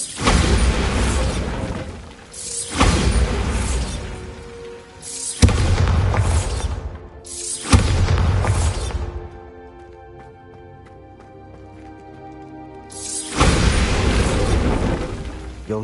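Heavy, booming blasts from the Bombarda spell in Hogwarts Legacy erupt four times, loud and close, each rumbling for a couple of seconds, with quieter game music filling the gap between the third and fourth.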